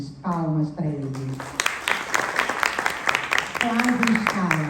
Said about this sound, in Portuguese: Lucas Alves, palmas para ele.